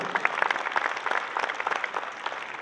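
Crowd at the opening ceremony of a dairy expo at the San Marcos National Fair applauds, a moderately loud, slightly uneven patter of many hands.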